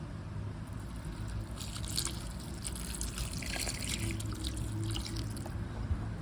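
Water trickling and pouring steadily onto a shadow plant's soil, a continuous soft splashing dribble with brief louder gushes, close by and alone without talk.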